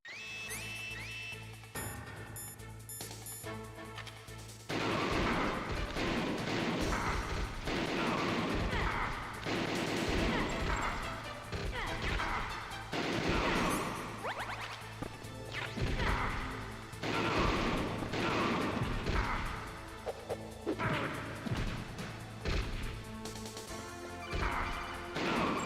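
Gunfire in the video game Metal Gear Solid, a dense run of loud crashing shots and impacts over a game music bed after a quieter opening.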